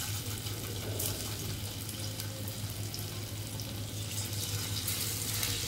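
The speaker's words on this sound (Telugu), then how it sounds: "ఇందులో ఇవన్నీ వేసేసి చక్కగా దాన్ని ఫ్రై చేస్తున్నాను" Chicken pieces coated with garlic paste, masala powder, yogurt and lemon juice fry in a pan for Schezwan chicken, a soft, continuous close sizzle with faint stirring and no talking.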